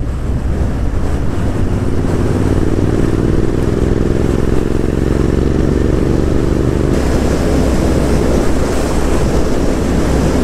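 A Royal Enfield Interceptor 650 motorcycle engine pulls hard through the gears up toward seventh, a loud, continuous drone with rising pitch buried in heavy wind rush, then a shift about two-thirds of the way through.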